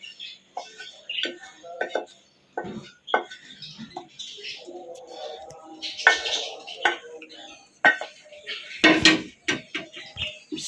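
Cooled roasted eggplant bharta being mixed into yogurt in a bowl, heard as repeated soft clinks, taps and wet scraping of a spoon against the dish, close and irregular, with occasional speech.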